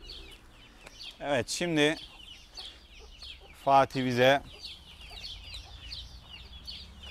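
A Brahma rooster clucks in two short bursts of loud, rapid, rising calls, near and clear, with quiet room noise and faint talk in between.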